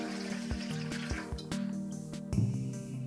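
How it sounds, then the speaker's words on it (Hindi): A little water poured into a vessel while preparing saree starch at home, small splashes and drips with a couple of sharp clinks of the container, then a brief gurgling fill near the end, quiet and close. "इसमें मैं थोड़ा सा पानी डाल रही हूँ"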